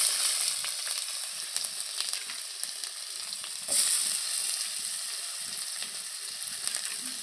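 Chopped onions fry in oil with whole cumin and five-spice seeds for a cauliflower dish, giving a steady, close sizzle with a few sharper crackles and a brief louder spatter partway through.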